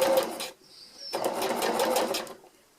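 A sewing machine stitching the hem of a tarp, running in two quick bursts of rapid mechanical whirring separated by a short pause, close and clear against a quiet room.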